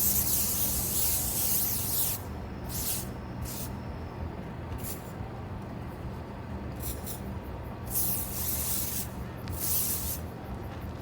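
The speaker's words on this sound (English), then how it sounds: "Nothing like a little mosquito spray shot in the AM." Several short bursts from a mosquito repellent aerosol can hiss at close range, each a second or so long and spaced irregularly, over steady outdoor background noise before a flooded-corn duck hunt.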